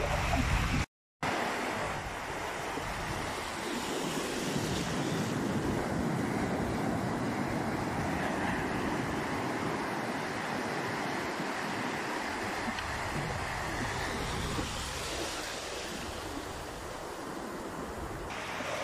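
Strong ocean surf at Bagasbas Beach roars steadily as a broad, continuous wash of crashing waves with wind buffeting the microphone, no voices.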